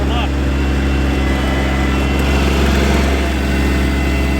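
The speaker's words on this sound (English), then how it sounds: "sorry about the tractor noise" A tractor engine drones loudly and continuously at close range, a steady low rumble with a faint voice underneath.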